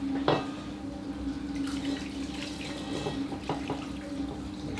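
Thick beef stew with balsamic liquid poured from a pot into a casserole dish, a steady wet trickling and splashing with a few clinks, close and moderate in level, no talking.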